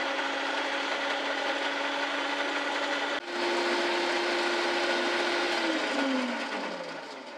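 An electric mixer whips egg whites with sugar, citric acid, gel colouring and mango essence for a simple meringue, a steady loud whine that briefly dips, resumes at a higher pitch, then slows and drops toward the end, with no talk.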